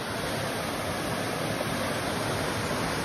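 A small waterfall in the Rhodope Mountains of Bulgaria sends up a steady, dense broadband rush of falling water, even and unbroken, heard close with no voices over it.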